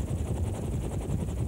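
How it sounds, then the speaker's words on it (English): An AH-64 Apache attack helicopter's rotor beats thump in a fast, steady rhythm, loud and close, with a rushing engine drone underneath. "AH-64 Apache attack helicopters."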